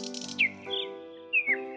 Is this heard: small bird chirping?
yes